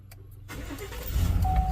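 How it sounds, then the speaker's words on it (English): A Chevrolet Silverado truck engine cranks and fires after a push-button start, a short whir building into a loud, steady idle, close by with no talk. "press the stop start button to start the engine"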